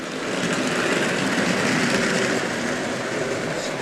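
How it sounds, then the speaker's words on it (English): A model train runs along a layout track, a steady close rolling rumble and rattle that stays even throughout with no voices. "see the train coming up through the viaduct"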